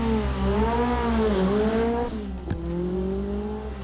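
A Peugeot Group B rally car racing on a Corsica stage, its engine note climbing and falling through gear changes, loud and close with a brief sharp crack midway.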